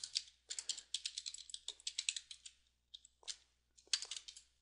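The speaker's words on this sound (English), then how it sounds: "I'm just going to type it in" Fast, close typing on a computer keyboard while entering code, dense runs of crisp key clicks broken by brief pauses, with no voice over them.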